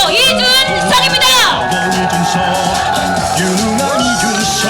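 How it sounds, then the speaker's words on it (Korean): Crowd at a political street rally in Jongno, Seoul, cheering and shouting loudly, with whoops and high voices rising over a sustained roar and speech-like chatter throughout. "여러분 큰 박수 주십시오"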